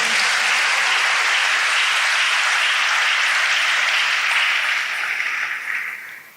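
A church congregation breaks into loud, sustained applause to acclaim the Lord, a dense wash of many hands clapping together that holds steady and then tapers off near the end.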